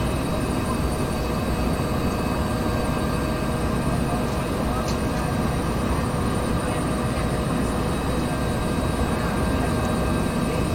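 A Bell 412 helicopter in X-Plane 11 keeps up a dense, steady engine and rotor drone that never lets up, loud and constant throughout.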